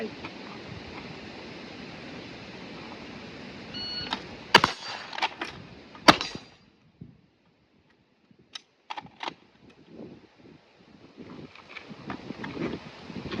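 Two sharp gunshots about a second and a half apart, one from a primary gun and one from a secondary gun, in a timed shooting drill outdoors over wind and background noise, followed by fainter clicks and handling sounds.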